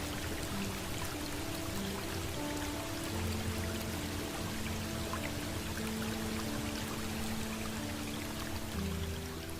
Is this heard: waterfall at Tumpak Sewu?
yes